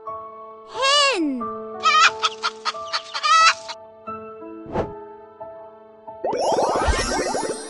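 A hen clucks in a run of sharp, broken calls, followed by a louder squawking burst near the end, close and clear against a quiet background.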